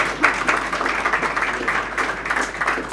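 Audience applause at a church gospel meeting, a steady patter of many hands clapping at moderate volume for a few seconds without pause.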